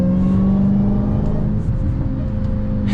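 Dodge Charger SRT Hellcat Redeye accelerating in second gear, a loud, continuous engine drone heard from inside the car, steady and unbroken with no speech.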